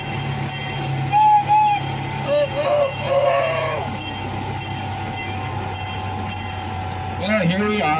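A small zoo train at the Erie Zoo rolls along its rails with a steady low rumble, rhythmic clicks over the track joints and occasional squeals from the wheels. A voice talks over it.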